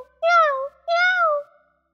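Two drawn-out cat meows, close and clear, one after the other with a short gap between, alone with no other sound.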